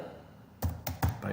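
A few keyboard taps, a brick search term keyed in on a computer, come as three or four close, dull key thunks in a quick burst after a brief quiet start.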